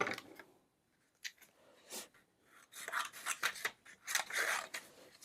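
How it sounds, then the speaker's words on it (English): Paper stickers being cut out for a journal with scissors, giving a series of close, crisp snipping and rasping cuts in irregular bursts, sparse at first and then quicker and denser, with no talking. "So you just cut them like this first."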